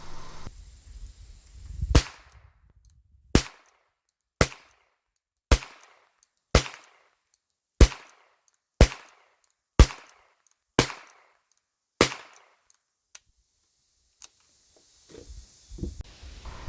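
Quiet 22 long rifle rounds are fired one after another, about ten sharp, dry cracks spaced roughly a second apart with near silence between, followed by faint handling noise.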